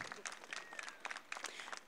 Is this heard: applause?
yes